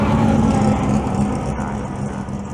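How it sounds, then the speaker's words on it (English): A 1UZ turbo dragster engine at a drag racing event roars steadily nearby with a low, rumbling drone, holding strong for a couple of seconds without voices. "this car is a 1UZ turbo dragster"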